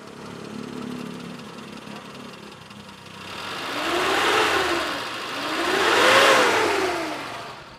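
A 1996 Suzuki Futura Realvan 1.3 engine runs at the exhaust, idling steadily and then revving twice in smooth swells that rise and fall.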